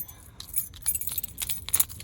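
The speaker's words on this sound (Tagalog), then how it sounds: "And kukunin lang natin ang susi. Baka maiwan." A bunch of keys, including car, mailbox and laundry keys, jangles and clinks close by in short metallic bursts as it is picked up after a car wash, with no talking.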